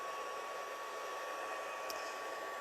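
A heat tool melts white embossing powder on a card, giving a steady loud blowing hiss with a constant whine that runs unbroken throughout, with no talk.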